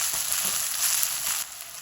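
Onions sizzling in a hot pan with cumin, a steady close frying hiss that stays even throughout with no talking.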